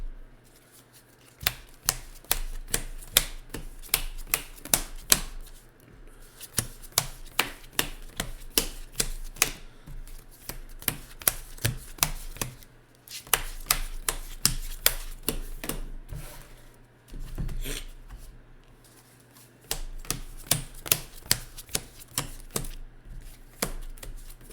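Cards from a Legendary deckbuilding game deck are riffled and shuffled in repeated close, crisp bursts of rapid flicking, with short pauses between runs and no talking.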